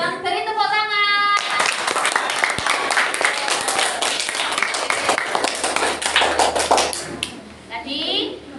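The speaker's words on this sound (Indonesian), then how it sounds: "Terima kasih untuk grade 1. Beri tepuk tangan." Schoolchildren in a classroom give a lively round of applause for a group, dense clapping mixed with children's voices and chatter, starting after a brief spoken introduction and fading toward the end.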